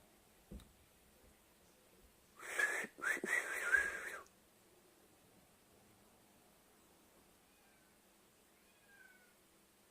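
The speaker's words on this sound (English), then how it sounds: "I hear the cats are like, let me eat that bird." Cats in a basement give a short burst of meowing and whining, loud and close for a couple of seconds, followed by faint quieter mews over low background hiss.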